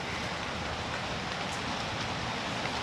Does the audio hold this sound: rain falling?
yes